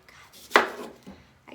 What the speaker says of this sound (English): I cut off the ends of my onion.